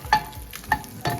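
A spoon stirs spices and dried chile de árbol in a pan, making three short scraping strokes with a light sizzle, close and alone.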